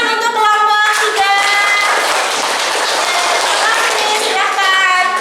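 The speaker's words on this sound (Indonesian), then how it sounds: "ya tepuk tangan untuk kelompok 3" Students in a classroom clap for group 3 after their presentation, loud and close, a brisk, dense patter of hands that runs throughout while children's voices and laughter rise above it.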